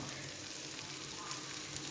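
Sardines frying in oil give a steady, close sizzle and crackle for the whole moment, with no voices.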